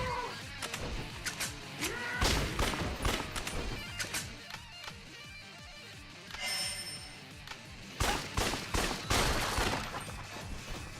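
Bursts of rapid gunfire from a horror video game, loud and close, coming in clusters with short pauses between them, a brief bell-like tone partway through and a faint voice in the background.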